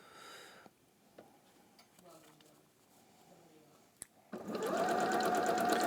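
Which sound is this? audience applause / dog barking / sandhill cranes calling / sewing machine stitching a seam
sewing machine stitching a seam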